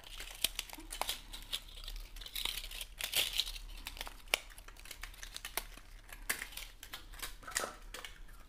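Crinkly, crackling adhesive tape noises with sharp rips and rustles as tape is torn and stuck, steady and continuous, close up with no talking.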